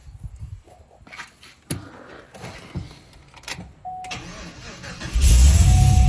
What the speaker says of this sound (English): the car runs.